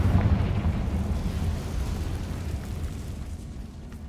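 A Confringo fire spell explodes in the Hogwarts Legacy video game, a loud booming burst that rumbles and slowly fades over several seconds, with no voices.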